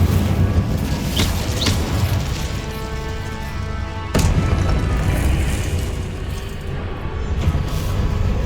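Repeated Incendio fire spells cast in Hogwarts Legacy, booming magical bursts with sharp cracks near 1 s and a strong hit around 4 s over a rumbling fiery background, loud and close, without speech.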